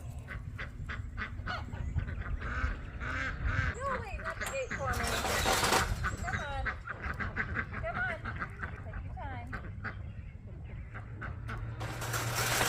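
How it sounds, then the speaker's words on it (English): Farm birds honking and quacking repeatedly nearby, a noisy chorus of geese and ducks, while a person talks over them. "There's gonna be birds."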